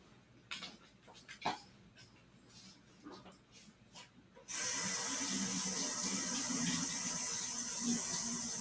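Sanding grit being rinsed off a wooden project under a running tap: a few soft handling clicks and thumps first, then water suddenly gushes in a loud, steady hissing spray until the end.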